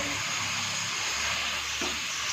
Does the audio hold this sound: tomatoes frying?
yes